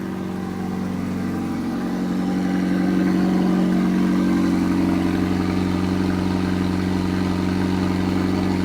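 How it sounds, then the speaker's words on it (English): A McLaren 750S Spider engine idles loudly with a low, steady burbling rumble, heard up close from outside the car and continuous throughout, no voices. "let's go hear that idle from outside"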